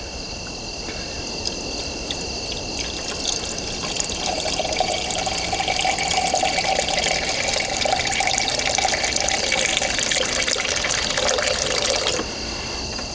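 Coolant pours steadily into a 1984 Chrysler LeBaron with a 2.6 engine, a loud continuous watery gush lasting about twelve seconds before it stops abruptly.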